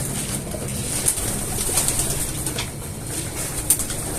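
Pigeons cooing steadily nearby, their soft repeated calls mixed with occasional wing flaps and rustling over a constant background hiss, with no talking.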